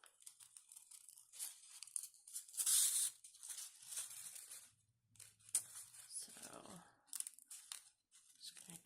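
Crepe paper crinkles and tears in short bursts as it is folded onto a needle for sewn rosettes, with a sharper rip near the start and softer rustling after, all close up.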